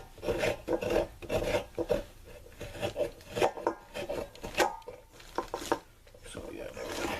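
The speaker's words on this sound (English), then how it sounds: "just rub it against the spur. And you'll start to get the grated" Coconut meat grated by rubbing it against a metal spur, giving a run of repeated rough rasping strokes in an irregular rhythm, close and fairly loud, with a few faint knocks in between.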